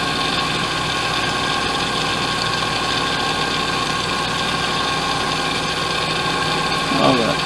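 Knife blade worked against a mobile sharpening machine, a steady loud grinding whir running throughout with a brief scraping flare near the end.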